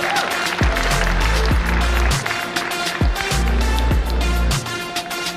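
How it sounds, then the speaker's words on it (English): Applause at a medical college graduation ceremony for the Class of 2020 in a hall, a steady, dense wash of clapping that carries on without a break across the whole stretch. "Can I have a huge round of applause for each graduate?"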